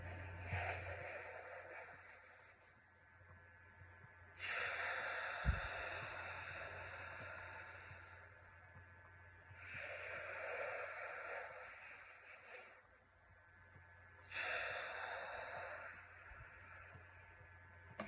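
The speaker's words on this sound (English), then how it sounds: "And take a few deep breaths like that." Slow, deep breathing during a mindfulness meditation exercise, with four long, airy inhales and exhales rising and falling close to the microphone in an otherwise quiet room.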